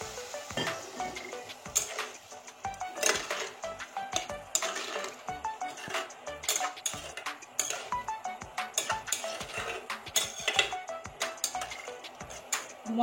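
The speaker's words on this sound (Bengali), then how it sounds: "মশলা দেওয়ার পর আরো কিছুক্ষণ আমি কষিয়ে নেব।" Spices for a thin egg and potato curry being stirred and fried in a pan, with a utensil scraping and clinking against the metal in quick, uneven strokes over a soft background sizzle, close by and without talk.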